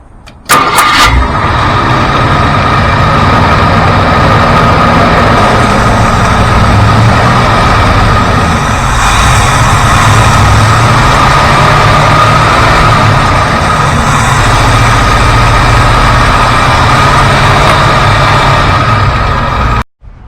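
A Ford Thunderbird engine runs steadily at a loud, rough idle while drawing in a can of Seafoam cleaner, with a constant low rumble and hiss throughout.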